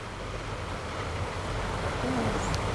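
Steady wash of River Thames water lapping near the bank, with a continuous broadband hiss of moving water and light wind, and a faint boat-like tone late on.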